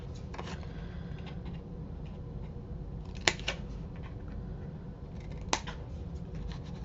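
Scissors cut paper for a camping planner, with a few quiet snips and two sharper clicks of the blades over a faint background hiss.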